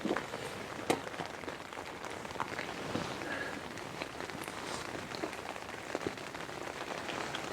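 Steady rain patters on a taut cheap tent fabric overhead, a dense hiss with scattered louder drops hitting close by, continuing throughout.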